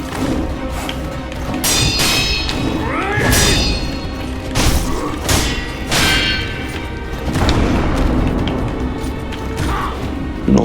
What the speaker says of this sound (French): Là, les pétards.